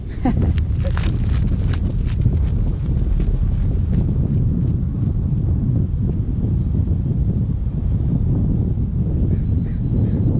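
Strong wind buffets a GoPro microphone outdoors, a loud, continuous low rumble with gusty flutter throughout and a few brief clicks near the start.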